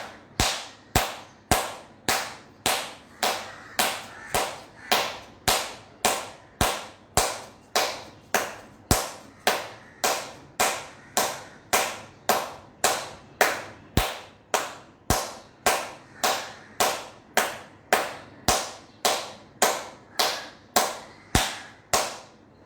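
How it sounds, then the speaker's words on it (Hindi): Steady rhythmic hand claps with both palms meeting during a yoga session, about thirty sharp, evenly spaced claps, close and clear with no talk. "मैं दोनों हथेलियों से ताली बजा रहा हूं, पंजे से पंजा मैच करके 30 टाइम्स ताली बजा रहा हूं"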